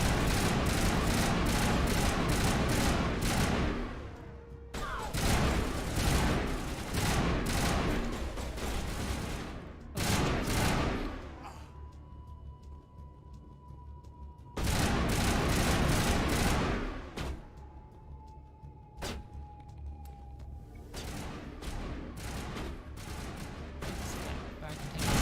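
Sci-fi weapon fire in the video game Mass Effect arrives as dense, loud bursts of rapid shots, with short lulls and tonal hums between volleys, over a speaking voice.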